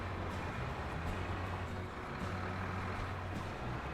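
A heavy truck in the video game SnowRunner drives downhill on an icy mountain road, its engine a steady low drone with a faint tonal hum, held at a constant level throughout.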